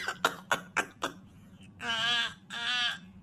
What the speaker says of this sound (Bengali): খুব কাশি হয়েছে আমার,